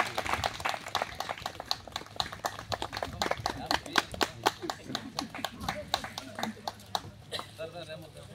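An audience claps in welcome at a community forest event for planting pepper seedlings, giving a steady, loud patter of many hands while a speaker talks over it.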